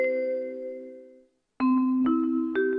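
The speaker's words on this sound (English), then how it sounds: "As the bells ring, the indication that you're supposed to be seated in the chamber." Chamber bells in a parliament ring out with sustained metallic tones, one long ring that fades, a brief gap, then a louder ring with repeated strikes.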